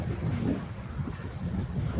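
Wind at a lakeside campsite on Kitkajärvi in Lapland, a low rumbling gusty buffeting across the microphone, steady and continuous.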